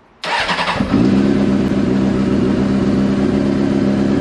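A Honda CBR600 F4i motorcycle with a charging fault cranks briefly and fires up, then settles into a loud, steady, close idle with a throbbing low rumble.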